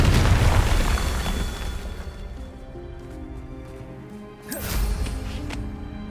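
The Confringo fire spell in Hogwarts Legacy sets off a heavy booming explosion that rumbles and fades, followed a few seconds later by a second sharp blast.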